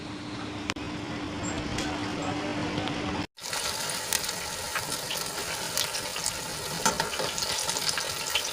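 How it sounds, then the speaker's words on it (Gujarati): A wheat flour breakfast snack fries in hot oil with a constant crackling sizzle and scattered pops, interrupted by a brief silent break partway through before the bubbling resumes. "ઉપર નીચે બંને તરફ ફેરવીને આપણે એને સરસ રીતે ગોલ્ડન થાય ત્યાં સુધી આપણે એને ફ્રાય કરી લેવાના છે"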